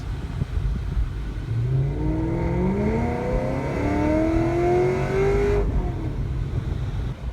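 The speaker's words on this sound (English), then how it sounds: "let's see how fast this thing can accelerate" A 650-horsepower 2016 Chevy SS accelerates hard from a roll on a back road, its engine roaring loudly as the pitch climbs steadily through the gears before cutting off sharply near the end.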